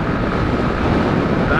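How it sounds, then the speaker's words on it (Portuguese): Strong wind buffeting the microphone while riding a Crosser 150 motorcycle with a passenger on the highway from Itaberaba toward Ipirá, Bahia; a loud, steady broadband roar that continues without break. "mas o vento tá muito forte na cara"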